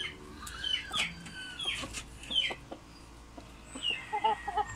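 Backyard chickens clucking near a nest with eggs, several short close clucks and calls in uneven bursts over quiet farmyard background.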